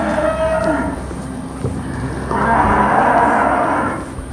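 Cattle low loudly and close by in a herd being pushed along, two long drawn-out moos over steady outdoor background noise, with no talking.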